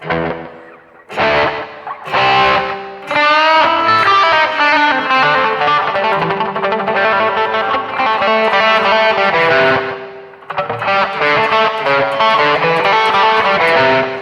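A distorted electric guitar, played through a BOSS eBand, plays chords and melodic runs, loud and full, with a light, subtle delay trailing the notes.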